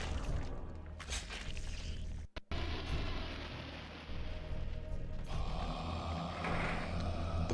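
Heavy metal bars slide across a door in the Eternal Darkness game, producing a sustained grinding, creaking mechanical scrape with a brief cut-off midway before the rumble continues, close and steady.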